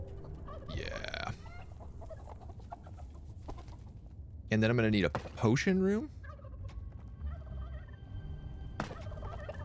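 Video game chickens and turkey-like gobblers in Dungeons 4 cluck and gobble in a quick warbling run, loud and close, after someone speaks briefly over a steady game ambience.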